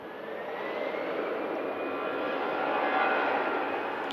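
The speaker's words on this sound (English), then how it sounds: "This Jet2 A321, the replacement for the 757s, heading down to Alicante." A Jet2 Airbus A321 passes at Manchester Airport, its jet engines making a steady, loud broadband roar that swells gently and holds throughout with no voices.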